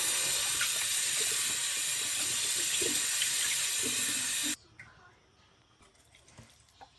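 Running water from a tap pours steadily over a turkey into a sink with faint splashing, then cuts off abruptly, leaving quiet drips and small clinks.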